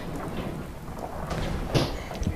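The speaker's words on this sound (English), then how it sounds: "now the sky is blue because it's raining." Rain falls steadily in Fallout 4 while thunder rolls low beneath it, with a sharper crack near the end over the constant hiss of the storm.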